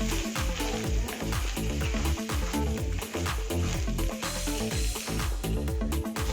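Grated or chopped coconut sautés in a pan for a country chicken curry. A dense, continuous sizzle runs throughout, with quick scraping and stirring clatter close by and no speech.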